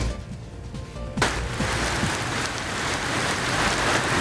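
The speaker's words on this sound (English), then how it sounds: "Rain and thunder roaring over central Arkansas, hitting Pulaski County rather hard." Heavy rain with thunder over central Arkansas in Pulaski County, a steady loud downpour hiss that swells after a sharp onset, with low rumbles beneath.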